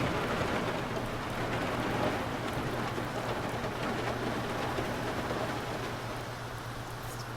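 Steady rain pours onto the deck of a World War II submarine in the naval game UBOAT, a dense even wash of drops running unbroken throughout with a faint low hum beneath, no voices.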